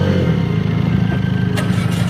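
A heavy motorcycle rides over sandy ground near a resort in Candelaria, Zambales, its engine droning steadily and loudly up close with a couple of brief clicks near the end.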